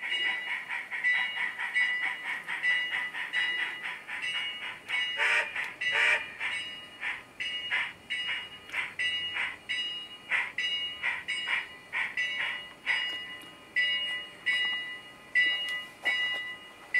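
A train backs down after coupling: rhythmic clicking and clanking of wheels and cars repeats steadily, with thin metallic squeals, all fairly faint and distant, and no talk.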